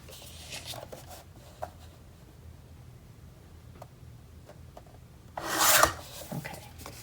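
A paper piece for a mini album booklet being trimmed in a quiet craft setting, with faint scratchy rubbing and then one short, louder rasping cut near the end.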